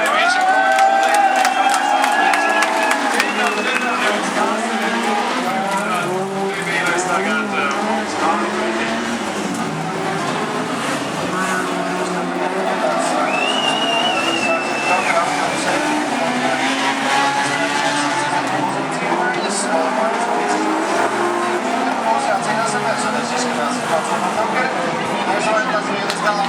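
Rallycross cars at Biķernieki race past with roaring, shifting engine notes, revving and fading over a loud cheering crowd, and a commentator talks throughout.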